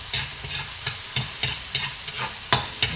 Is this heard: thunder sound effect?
no